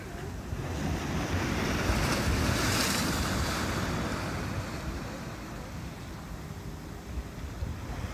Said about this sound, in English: Here comes a little wave right here.